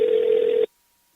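A single ringback tone on an outgoing phone call, one steady electronic tone lasting just over half a second that cuts off sharply into silence.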